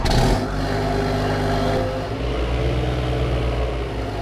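An MX tractor engine runs nearby with a loud, steady low mechanical drone. The pitch dips slightly partway through before settling back into an even idle, and no one speaks.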